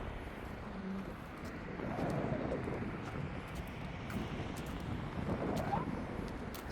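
Strong wind blows outdoors, a continuous rushing roar with gusty swells and buffeting against the microphone, rising in strength midway and again near the end.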